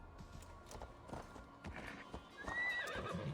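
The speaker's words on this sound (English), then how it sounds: "My horse is not going to be able to get up there." A video-game horse in a Norse-themed game gallops with quick rhythmic hoofbeats and gives a clear whinny near the end, all quiet and close, with no talking.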